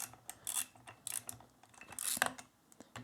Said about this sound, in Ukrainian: Насправді зараз рушу з місця всі болти.